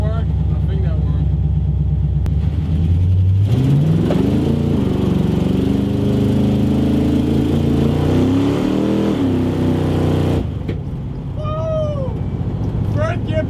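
The engine of a 300HP Pontiac Firebird surges and climbs in pitch as the car accelerates hard in third gear, loud and from inside the car. It drops off near the end, with a voice heard at the start and finish.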